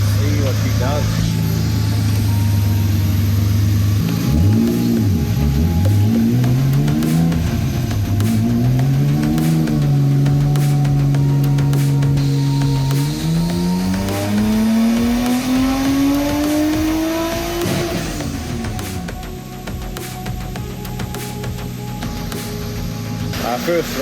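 A Nissan R32 Skyline's turbocharged engine screams through a full-throttle pull, rising in pitch through several gear changes before backing off, loud and close with excited voices over it.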